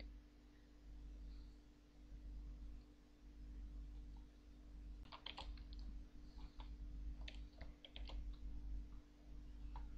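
Commands being typed on a computer keyboard during a text-based online game, a faint run of quick key clicks in irregular bursts over a low steady hum, with no talking.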